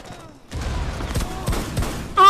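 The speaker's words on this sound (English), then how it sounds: "They're actually having a gun battle." Gunfire rattles through a close-quarters fight in Rainbow Six Siege, with bursts of shots cracking over each other for about two seconds before a sudden loud electronic tone cuts in at the end.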